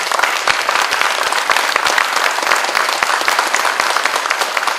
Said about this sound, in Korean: 마지막 격려의 박수 한번 부탁드립니다